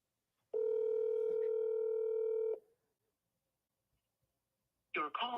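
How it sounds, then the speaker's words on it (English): A telephone ringback tone on an outgoing call: one steady two-second electronic ring, then silence, followed by a brief burst of recorded voice. "but this time it's ringing"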